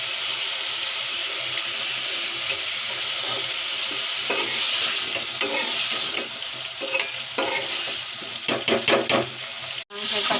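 Chicken meat with potatoes frying and being stirred in a pan, a steady sizzle with scraping stirs that grow sharper and more clattery toward the end.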